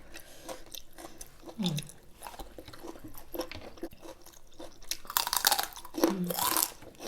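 Crunchy bites and chewing on spicy Thai pounded giant octopus salad with fresh vegetables, several close, crisp crunches in bursts with quieter mouth sounds between, loudest near the end.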